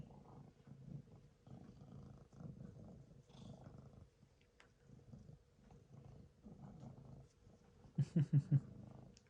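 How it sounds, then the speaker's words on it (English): Low, rhythmic purring from a pet cat held close, steady breathing cycles rumbling on and off, with a few sharp clicks near the end. "I think you can hear him purring."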